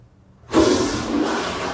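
A toilet flushes after a short silence, a sudden loud rush of water that keeps going as a steady hissing gush to the end, with no voices.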